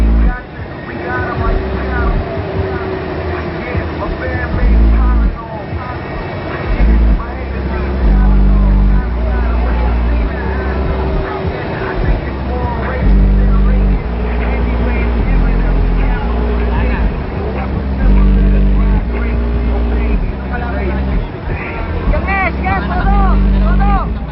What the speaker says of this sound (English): Car number 29 is a world band with 2x15 woofer.